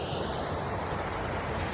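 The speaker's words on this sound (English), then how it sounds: "It's an amazing waterfall right there." A waterfall beside a woodland campsite gives a steady, close, broadband rushing roar that holds unbroken throughout, with no voices over it.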